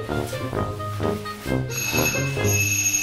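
A harmonic ringing tone repeats several times over a steady musical background, with a bright chiming burst near the end, like a bell being pressed repeatedly.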